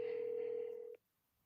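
A telephone call rings out unanswered, a steady held tone with a faint low hum under it, close and fairly quiet, cutting off sharply near the end and leaving silence.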